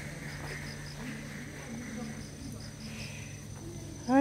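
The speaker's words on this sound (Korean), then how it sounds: "매미 소리도 나고" Cicadas chirp outdoors near a countryside cafe in Hamyang in a steady, shrill pulsing drone that fills the scene, with faint background activity and a brief louder noise at the very end.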